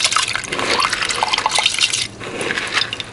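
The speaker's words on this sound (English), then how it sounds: "So add the rice that I had soaking" Soaked rice pours into a pot of rice and peas with a wet, splashy patter of grains and water, a continuous close rush that dips briefly before resuming.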